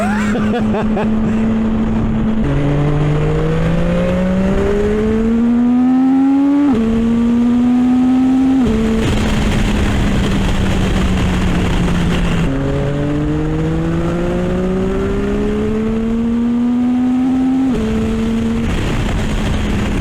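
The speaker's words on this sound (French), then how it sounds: "ils ont fait un gros travail sur le bruit de l'admission" A 675SR-R sports car in a video game roars continuously with prominent intake noise, climbing in pitch through repeated gear changes, each shift dropping the tone before it rises again; loud and close throughout.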